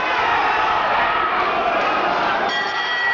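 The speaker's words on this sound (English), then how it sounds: "Every punch Kaylor lands is being cheered to the echo by his West Ham supporters in this crowd." A boxing crowd with West Ham supporters at ringside cheers and roars loudly and continuously during the bout, a thick sustained wall of voices.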